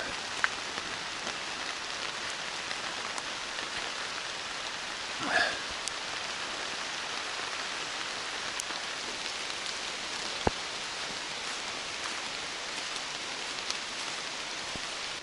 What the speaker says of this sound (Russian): Дождик лупасит.